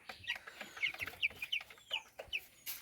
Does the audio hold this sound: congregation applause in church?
no